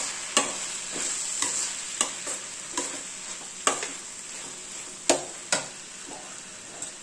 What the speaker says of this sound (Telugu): బాగా వేయించి